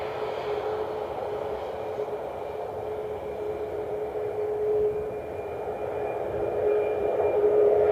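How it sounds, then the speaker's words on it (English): A United Boeing 737 MAX 8 taxis out for departure at Cleveland Hopkins airport, a steady distant engine drone with a thin whine that swells slightly toward the end, no voices. "we got the 737 MAX 8 taxiing out for departure for its flight out to San Francisco"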